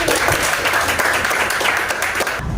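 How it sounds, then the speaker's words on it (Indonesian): Students clapping together in a classroom at the end of a lesson, a lively burst of many hands at close range, loud and steady before cutting off abruptly at the end. "Tepuk tangan dulu."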